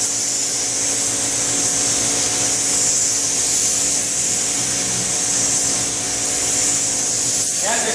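Spray gun applying wood stain to a paneled wooden door, a loud, continuous hissing spray that runs steadily throughout with a brief interruption near the end.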